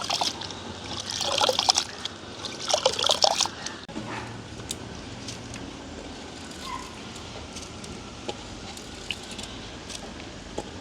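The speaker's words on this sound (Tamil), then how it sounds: "இப்படியே நல்ல வடிவாக கழுவி அரிச்செடுப்போம் நாங்கள்." Grain is washed and sifted by hand in water, with two bursts of splashing and swishing early on, then softer trickles and occasional drips continuing faintly.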